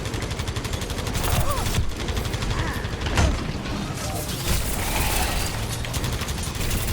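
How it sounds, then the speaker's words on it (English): Rapid automatic gunfire from the video game Overwatch rattles continuously in dense bursts, loud and close, with scattered heavier impacts, while players talk over the shooting. "He's shooting."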